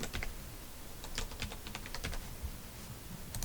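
Fast, steady typing on a computer keyboard while an email address is entered, close and crisp, with clustered key clicks and brief pauses between bursts.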